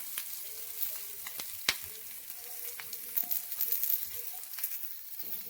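Masala roasts in a pan for a spicy fish curry, giving a quiet, steady sizzle and crackle, with occasional sharp pops and a brief stirring scrape.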